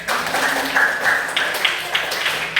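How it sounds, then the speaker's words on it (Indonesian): Students in a classroom, who had been working in discussion groups, applaud together. Dense, steady clapping fills the whole stretch, with a few sharper claps standing out. "tepuk tangan untuk kalian semua"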